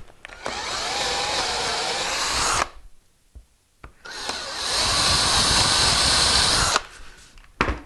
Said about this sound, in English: So I'll just go ahead and drill these.